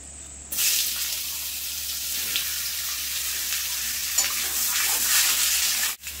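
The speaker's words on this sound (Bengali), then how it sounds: "এই চিচিঙ্গাগুলো শুধু আমি একটু হলুদ দিয়ে হালকা করে ভেজে নেব" Long slices of snake gourd frying lightly in oil with turmeric, a steady close hiss and sizzle that starts abruptly and holds evenly, with faint stirring and no voices.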